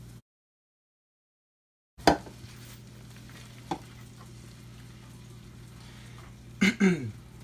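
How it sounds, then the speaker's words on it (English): Garlic and milk sizzling in oil in a pan, a soft steady fry after two seconds of silence, with a few close scrapes and clanks of stirring, the loudest near the end. "Just let it saute a little bit or whatever, as you see I'm doing. Then, then you add your milk."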